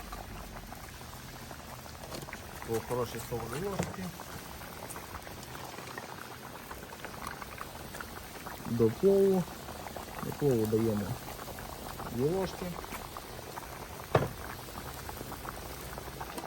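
Thick plov bubbling and popping steadily in a cauldron, with a person talking over it at moderate volume.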